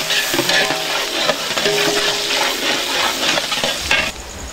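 Sliced onions for a Dindigul-style seeraga samba chicken biryani sizzle and fry in oil in a large pot while being stirred until golden. The frying hiss is steady and close, with occasional scrapes of the stirring spoon and no talking.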